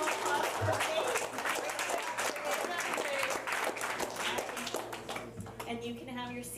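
Applause at a school board meeting, a short burst of clapping from the room that fades over a few seconds, with people talking over it.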